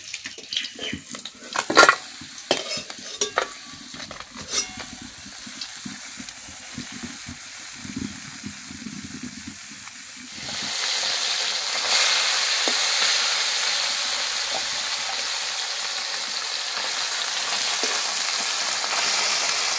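Puti fish frying in mustard oil and being stirred: scattered clatters and crackles at first, then from about ten seconds a steady, fairly loud broadband sizzle that carries on to the end, with no talk.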